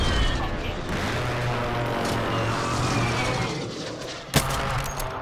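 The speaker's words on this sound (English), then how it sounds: "They're shooting from right across." Sustained gunfire in a Call of Duty match, dense rapid shots under continuous game noise, ending in one sharp loud crack near the end, with a player talking over it.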